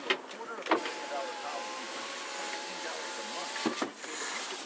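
Power windows on a 2008 BMW 328i in metallic grey run in a steady electric motor whine for several seconds inside the car, with brief clunks near the start and end and faint talk in the background.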